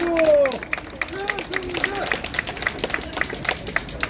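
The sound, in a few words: audience applause for lawmaker Choi Seung-jae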